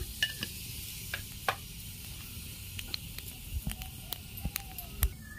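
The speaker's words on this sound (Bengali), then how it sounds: "কড়াইয়ের তেল গরম হয়ে গেছে, আমি কালো জিরে ফোড়ন দিয়ে দিচ্ছি" Black cumin seeds sizzle and crackle in hot oil in a wok, a steady close frying hiss broken by sharp popping spits and a few scraping stirs.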